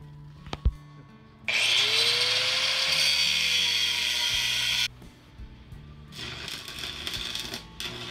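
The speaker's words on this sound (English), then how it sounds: "we were able to cut the channel on the big piece of tubing" A power tool cuts steel tubing for an RV bed frame in a loud, harsh grinding burst lasting a few seconds, preceded by clanks and metallic knocks, followed by quieter scraping and handling noises.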